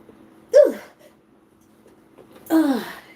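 Two loud, close sneezes about two seconds apart, triggered by seasoning while cooking chicken and potatoes, each a sharp burst sliding downward, with near silence around them.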